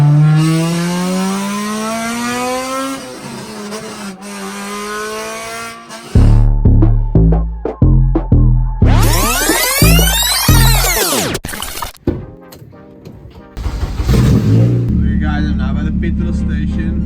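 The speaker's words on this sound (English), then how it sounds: "the Civic doesn't have a tailpiece on. I plan on fitting the exhaust soon on the car, so maybe just gonna do a few rips and just show you guys how the car sounds" K-series Honda Civic with no exhaust tailpiece, revving loudly in a series of sharp, raw rips and bursts that rise and cut off repeatedly, after an opening stretch of idling engine drone with talk.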